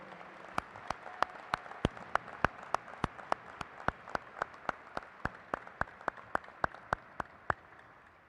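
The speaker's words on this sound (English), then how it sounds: "Let's give these graduates a round of applause for their hard work." Steady, evenly spaced hand claps from an audience at a graduation ceremony repeat in a quick regular rhythm for several seconds, crisp and fairly near, with no talking.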